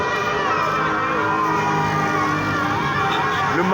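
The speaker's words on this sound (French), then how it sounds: "C'est une foule immense qui célèbre aujourd'hui la victoire des éléphants" A huge crowd in Bouaké, Ivory Coast, celebrating a national team football victory, with dense shouting, whistling and cheering that holds steady and loud throughout.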